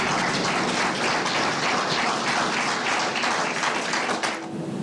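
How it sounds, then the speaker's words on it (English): Sustained applause fills a courtroom after life sentences are read, dense and steady clapping from many people for several seconds before thinning at the end. "The applause that happened, does that surprise you?"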